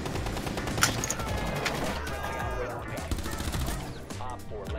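Dense bursts of rapid gunfire crackle through a Rainbow Six Siege match, shots overlapping into a near-continuous fusillade with loud cracks standing out.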